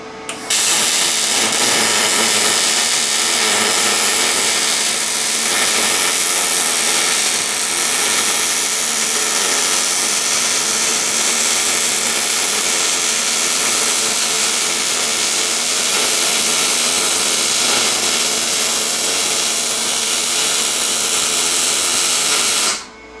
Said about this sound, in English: We got our wire feeding our wire feeder working.